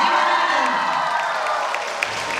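Audience applause and cheering fill a Ukrainian concert hall in Lutsk, a steady dense wash of clapping that fades slightly toward the end, with a faint whoop rising from the crowd.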